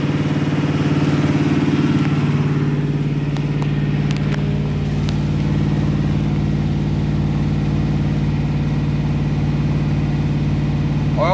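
A 327 small-block Chevy V8 assembled with a 307 crankshaft runs steadily through camshaft break-in, a loud, continuous rumbling drone that holds the same pitch for the whole stretch with no talk.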